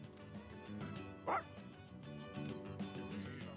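A dog in the video game Persona 3 Reload gives one short, sharp bark amid a steady game soundtrack, fairly quiet overall.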